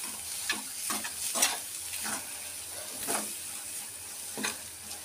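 A spoon stirs masala chickpea curry in a hot pan, with a soft continuous sizzle broken by repeated scraping strokes at an irregular rhythm, close and fairly quiet.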